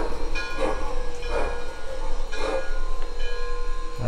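A Thomas the Train toy train runs nearby with a soft, steady whirring rumble, broken by repeated clicking bursts roughly once a second.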